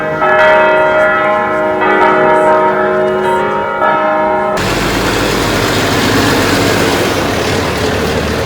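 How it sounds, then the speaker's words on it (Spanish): Church bells ringing at a sanctuary along Route 66, loud resonant overlapping strikes with long sustained hum for several seconds, then cut off abruptly into broad rushing noise like wind or an engine. "Suenan como las campanadas en el santuario de la Virgen de la Cabeza."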